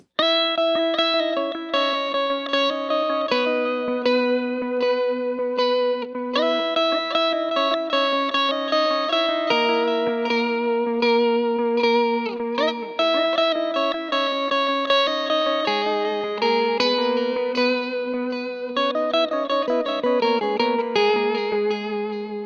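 Clean electric guitar through a Line 6 Helix clean lead preset plays melodic lead phrases over chords, bright sustained notes, slides and bends, washed in chorus and reverb, continuous and up close.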